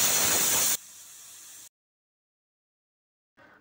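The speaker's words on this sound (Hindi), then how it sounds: "इसे हम गैस के ऊपर रख देंगे 4-5 विसल आने तक" Pressure cooker on a gas stove releasing steam while rajma cooks, a loud broad hiss that cuts to a softer hiss, then falls silent before a faint hiss returns briefly at the end.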